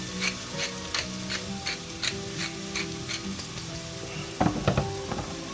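Sliced leeks sizzle and crackle in a frying pan, a steady soft hiss with regular ticking pops, then a louder clatter of stirring near the end.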